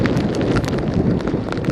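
Heavy wind buffeting a rider on a Superpedestrian hire e-scooter in Nottingham, a loud, steady, roaring rush with gusty fluctuations and no speech over it.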